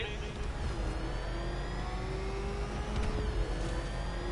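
The Batmobile's engine in Batman: Arkham Knight, a continuous loud motor drone that swells as it revs, with game voices talking over it.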